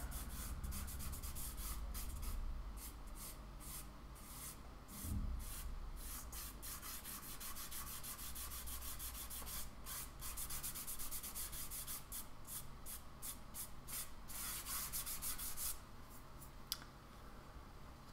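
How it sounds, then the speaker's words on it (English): A fingertip rubbing and blending soft pastel on paper, a faint, steady dry scratching and rubbing texture that continues for many seconds with light rhythmic strokes and no talk. "I think I'm going to use my finger here because I'm not quite getting the blend that I want"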